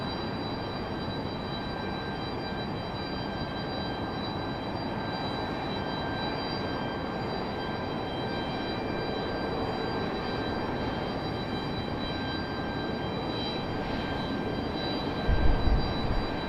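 A Breeze Airways jet arriving at Raleigh-Durham airport gives a broad, steady roar at moderate distance that holds throughout, with a faint high whine and a brief louder thump near the end.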